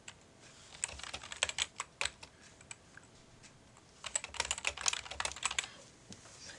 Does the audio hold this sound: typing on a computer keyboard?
yes